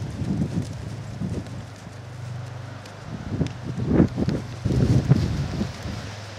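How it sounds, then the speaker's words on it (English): Gusty wind buffeting the microphone at a horse arena, rumbling and rising in surges, with soft hoof clip-clops mixed in at moments. "I love the wind today."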